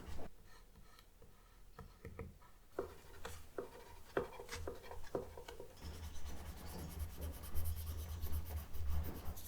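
Oil-based colored pencil strokes scratch and rub across paper, a soft irregular scribbling with occasional light taps, close and quiet.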